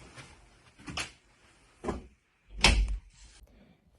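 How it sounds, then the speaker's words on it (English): A door is handled and pushed shut in a few dull knocks and thumps, ending in one firmer closing bang in a quiet room. "Shut the door."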